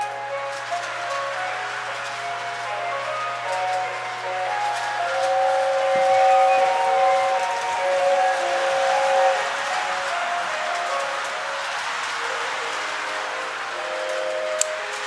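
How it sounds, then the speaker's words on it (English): A toy holiday train set runs steadily with a soft mechanical hum and whirr, while a tinny tune and whistle-like tones play throughout at a fairly constant level indoors. "Drewby, go look at the train."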